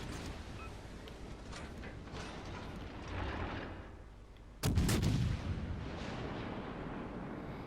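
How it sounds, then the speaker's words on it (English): A battleship Bayern fires in a naval video game, a sudden heavy boom followed by a rumbling roll, set against a steady mechanical drone with an earlier softer thud, fairly quiet overall, no talk. "Let's see if we can just dodge the Bayern shots."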